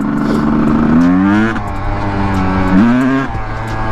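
Kawasaki KDX250 two-stroke dirt bike engine on a test ride after exhaust ring replacement, loud and close, a buzzy idle rising into two sharp revving surges with rattly exhaust between them.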